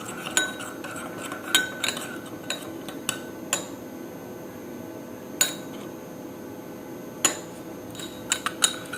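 Oil and clove being mixed together in a small container, with intermittent metallic clinks and taps of a spoon against the vessel in a quiet room and no talking.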